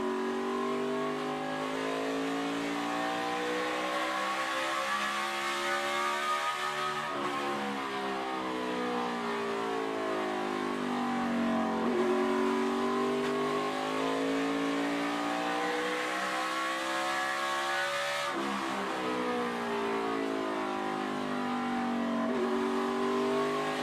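A NASCAR stock car accelerates hard on a qualifying lap at the 2017 Toyota Owners 400: a loud, sustained engine roar climbs in pitch, breaks at a couple of upshifts, then climbs again. No voices are heard over the engine.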